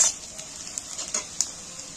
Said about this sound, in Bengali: পেঁয়াজগুলোকে ভালো করে নাড়াচাড়া করে ভালো করে ভেজে নেব।